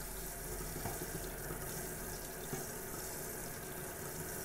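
Tap water runs steadily over dental instruments being rinsed in a sink, a constant, close splashing rush with no pauses and no talking.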